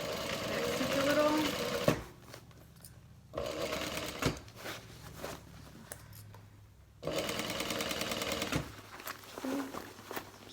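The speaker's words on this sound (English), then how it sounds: "Back stitch a little." A sewing machine back-stitches on a tote bag in several short, stop-start runs of quick, rattling needle strokes, with quiet handling gaps between bursts and faint talk at times.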